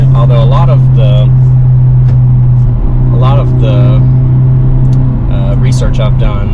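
A 2023 Hyundai Elantra N with a 276-horsepower engine hums in a steady, loud low drone throughout while people talk over it.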